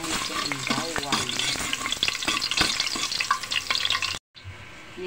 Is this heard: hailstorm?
no